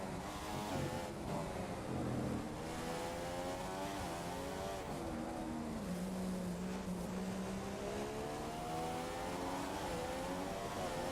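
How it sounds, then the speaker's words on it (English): A Formula 1 car in F1 2015 at Abu Dhabi screams at full revs, a continuous high whining engine note rising and falling through gear changes, loud and unbroken for the whole stretch. "The car behind is running on full revs"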